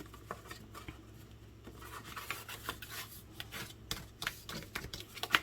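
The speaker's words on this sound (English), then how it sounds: "on all my score lines, I'm just burnishing and folding" Paper score lines on a handmade pour-spout candy box being burnished and folded, giving soft, uneven rubbing and scraping with small crinkles and taps, close and quiet, with no talking.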